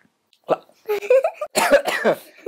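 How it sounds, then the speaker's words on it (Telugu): A child gives a short, sharp cough early in an interview, followed by people talking nearby. "నాకు దగ్గు వచ్చింది"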